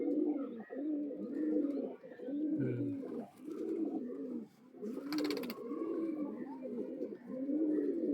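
Pigeons coo in repeated soft, throaty phrases, a steady rhythmic series from nearby birds, with a brief rustle or flutter partway through.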